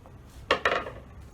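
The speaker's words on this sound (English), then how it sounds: "the next step is to pour the mixture in the frying pan" Breakfast mixture poured into a metal frying pan at a campsite, heard as two quick clattering knocks of pan and utensil followed by a soft fading scrape, close and fairly quiet, with no talking.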